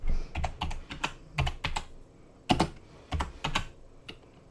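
Keys clacking on a computer keyboard in irregular bursts, close up and crisp, with brief pauses between clusters of keystrokes.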